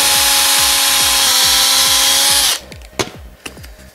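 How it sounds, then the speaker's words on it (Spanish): A power drill whines steadily at high speed for a couple of seconds while boring through cork, then cuts out, leaving rhythmic ticking and a few sharp clicks. "voy a intentar hacer el taladro sin que se salga del corcho"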